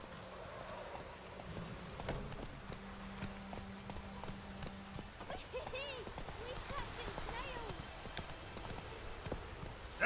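Hooves of Roach, the horse in The Witcher 3, clip-clop steadily over a rainy ground, moderately near, with a voice speaking over the game sounds and background music.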